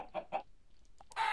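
A few short, clipped Minecraft chicken clucks come in quick succession, followed by a brief pause and a sharper squawk, close and fairly clear.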